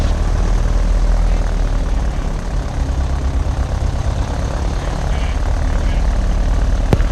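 A propeller airplane departing the runway at a fly-in airshow, a loud steady engine drone holding throughout, close and constant with a sharp click near the end.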